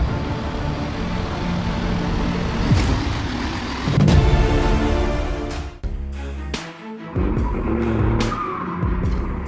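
Off-road trucks churn through a swamp. Loud engines roar and rev, with repeated surges, tire-squeal-like whines and sudden bursts, and a brief drop near the middle before the engine noise picks up again. No one speaks.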